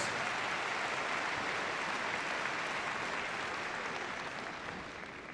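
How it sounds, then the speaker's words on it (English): A large arena crowd at the Crufts dog show applauds after a West Midlands Police dog unit display, a dense, sustained roar of clapping that holds steady and eases slightly at the end. "Well worth an applause."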